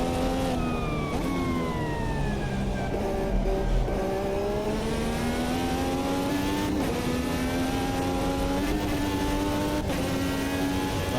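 IndyCar race cars in the 2023 IndyCar video game, engines whining steadily at high revs with pitch rising and falling through gear changes, a constant loud drone from start to finish with no talk.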